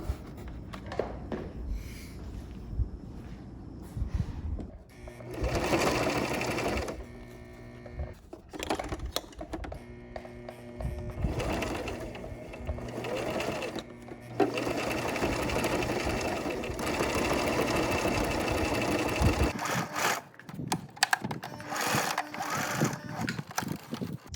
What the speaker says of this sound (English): And then I'm gonna start sewing.